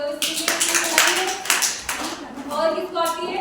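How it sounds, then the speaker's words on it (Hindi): A group of children claps for a child's story, a brisk burst of hand claps layered with talk that runs through the whole stretch. "तालियां बजाओ इसके लिए।"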